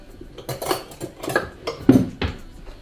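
A small bread and butter knife cutting around the edge of a keto pizza base, several short scraping and tapping strokes in quick succession, close and clear with no talk.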